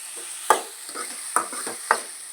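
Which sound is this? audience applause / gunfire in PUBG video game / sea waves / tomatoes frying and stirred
tomatoes frying and stirred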